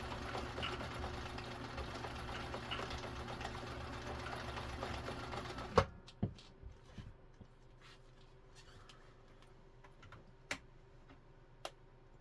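A Viking Husqvarna 2000 sewing machine runs steadily for about six seconds, stitching a scallop pattern with a dense mechanical whir, then stops; a few sharp clicks and taps follow in near quiet.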